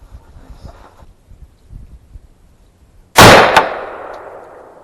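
A single loud, sharp report from a 6.5 Grendel AR-15 hunting rifle at an outdoor range, fired after faint low murmuring, with a long ringing decay trailing off.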